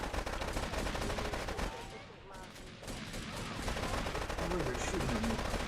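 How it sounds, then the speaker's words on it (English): Gunfire aimed at the player in GTA 3, a continuous dense rattle of shots under heavy game noise, with a short dip partway through before the firing resumes. "Oh, they're shooting at me."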